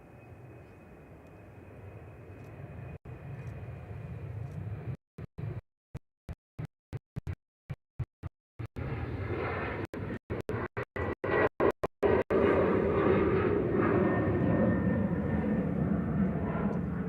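A Norse Atlantic airliner starts its engines at Manchester Airport: a steady distant hum with a thin whine gives way to a broader, swelling roar, broken by a run of brief dropouts.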